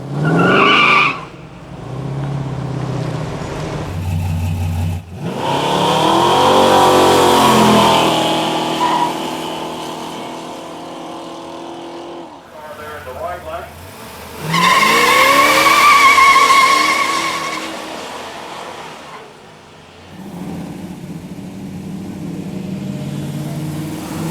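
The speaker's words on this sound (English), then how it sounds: "the more adventurous owners cruised over to the local drag strip to show off the raw power of these cars" Classic muscle cars, including Yenkos, race at a local drag strip, engines roaring and revving hard in several loud passes with tire squeal, rising and falling as each car launches and accelerates away.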